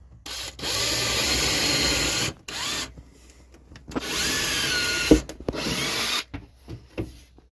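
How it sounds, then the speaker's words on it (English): A power drill whirs in several bursts of a few seconds each, grinding as it bores through panels on a 1978 motorhome, with short pauses and small knocks between runs. "when you start drilling a hole through some panels"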